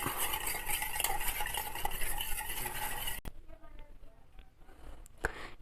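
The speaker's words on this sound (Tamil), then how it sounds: "இப்போ இந்த முட்டையை வந்து நல்லா மிக்ஸ் பண்ணிக்கலாம்." Rapid, busy whisking of eggs, a utensil stirring and clinking against a bowl, then it stops, leaving quiet rustles and a couple of sharp taps.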